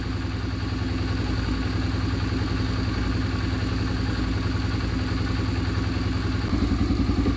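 A Yamaha TTR 125 LE dirt bike engine, recently rebuilt and fitted with an air tube and air filter, idles steadily, a close and even mechanical chug with a slight lift in level near the end.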